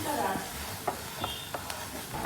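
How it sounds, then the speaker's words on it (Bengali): Chopped garlic frying in oil in a pan, a soft steady sizzle with a few light stirring scrapes and clicks, fairly quiet and close, no talking. "তারপর তেলের মধ্যে রসুন কুচিটা দিয়ে দিয়েছি"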